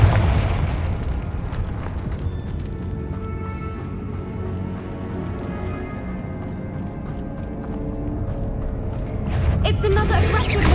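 Spell blasts from Bombarda and Confringo in the Hogwarts Legacy video game, a steady churn of booming magical explosions and bursts under a speaking voice, growing louder near the end.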